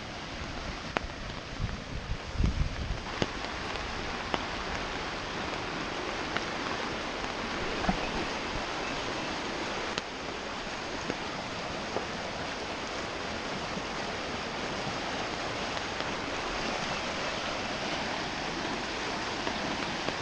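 A flooded creek in southwest Ohio rushes after heavy rain, a steady, dense roar of moving water, fairly distant and unbroken, with a few faint knocks and no talking.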